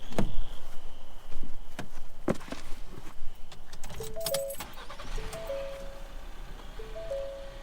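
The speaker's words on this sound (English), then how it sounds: "start it up, show you that there's no engine lights" A Ford Maverick is readied, with keys jangling and sharp clicks and thumps, then a series of short electronic chimes and tones repeat near the end. No clear engine crank stands out.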